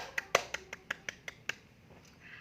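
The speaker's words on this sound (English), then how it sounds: "Give applause for Effie." A short burst of scattered hand claps in a classroom, about eight sharp claps over a second and a half, then quiet room noise.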